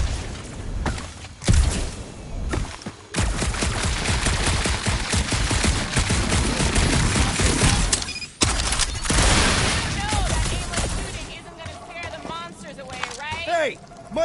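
Bursts of video game gunfire from the player crackle loudly in a dense stretch, with heavier booms mixed in, while people talk over the shooting and quieter effects trail off afterward.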